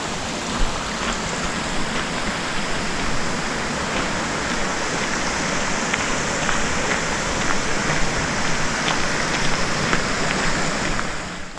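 A river rushing along a hiking trail toward Rainbow Falls and Beaver Meadow Falls, its water lower than the week before: a steady, dense broadband roar of flowing water, continuous and alone, with no voices.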